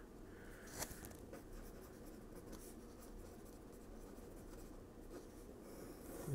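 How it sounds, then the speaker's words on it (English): A pen scratches steadily across a sheet of paper on a workbench during a MacBook Pro battery replacement, a faint, close, continuous scribbling with occasional sharper strokes. "just drawing areas on my piece of paper"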